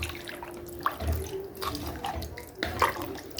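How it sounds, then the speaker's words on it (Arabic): Water is poured into a pot of basmati rice, a splashing, gurgling stream with small drips and bubbling surges, close and moderately loud, with no talking. "كده حطينا مقدار المية بتاعتنا بتاعت الرز البسمتي"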